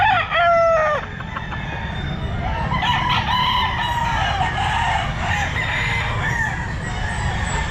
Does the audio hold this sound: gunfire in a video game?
no